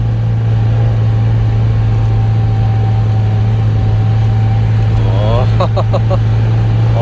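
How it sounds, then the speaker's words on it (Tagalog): A car engine hums continuously on a steep mountain road in Mindoro, a steady low drone heard from inside the vehicle, with a person talking briefly near the end. "Ugong ang makina eh"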